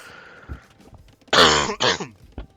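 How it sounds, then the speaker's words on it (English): A person coughs hard twice in a short burst, close and loud, after a stretch of quieter game sounds. "Yep, still got me cough."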